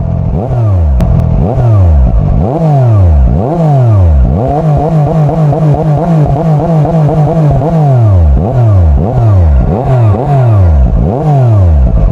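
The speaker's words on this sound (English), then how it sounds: "I want to let everyone hear the sound while it's idling" A Zontes 703R three-cylinder motorcycle engine idles with a throaty, uneven pulse, then revs up and down repeatedly in sharp bursts, loud and close, with a steadier held rev midway.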